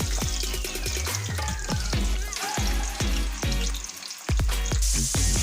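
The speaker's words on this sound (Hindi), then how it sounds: "मैंने फ्राई करने के लिए मीडियम गैस में रखी हूँ।" Potato sticks for homemade French fries bubble in oil over medium heat, a loud near sizzle broken by rapid rhythmic thumps and pops from the pan.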